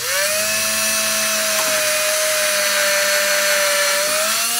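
A power drill fitted with a flap sandpaper wheel sands a 1965 Ibanez Jamboree guitar, giving a loud, steady high whine that holds for the whole stretch with no talking.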